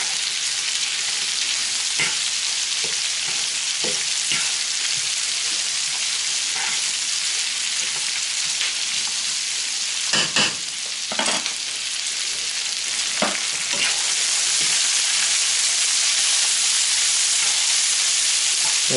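Bacon and onions fry in a pan with a steady, loud sizzle and hiss, broken by a few sharp crackles and spatters near the middle and later, with no talking.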